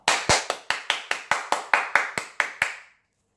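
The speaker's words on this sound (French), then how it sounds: "les petits dinos applaudissent très fort" About a dozen crisp, evenly spaced claps, as a story sound effect for little dinosaurs applauding, ring out close and clear in a steady rhythm before stopping into silence.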